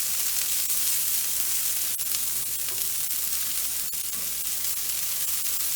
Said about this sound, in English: I'm gonna saute these up a little bit, soften them up, and get them ready for my to add to my dressing mix